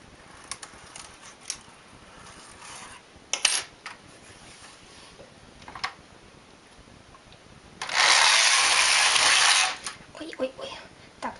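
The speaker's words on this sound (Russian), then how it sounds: "Провязываю один соединительный ряд, чтобы сбить вот это все вот эти обкруты" Sock knitting machine carriage running a joining row, a loud steady mechanical whir and rattle lasting about two seconds, with scattered clicks and clacks of the machine before and after, no talk.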